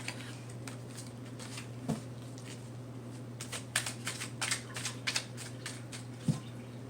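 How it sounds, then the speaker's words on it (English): A deck of tarot cards is shuffled up close, giving papery riffles and crisp clicking bursts that come in irregular clusters, heaviest in the second half, with no one talking. "Let's pull some more cards."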